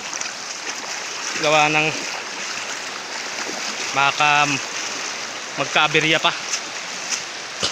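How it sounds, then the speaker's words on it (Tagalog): Floodwater rushing in a continuous broad wash on a flooded route where a crossing lies ahead, heard close and steady while a person talks over it in short bursts. "Yan, baha na naman. Tubig."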